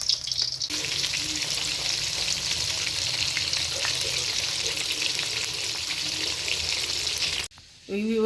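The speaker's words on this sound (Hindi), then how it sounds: "अब इसको फ्राई करते हैं।" Flour-coated chicken leg pieces sizzle steadily in hot oil, a dense continuous frying crackle close by, ending in a brief cut with a faint voice afterward.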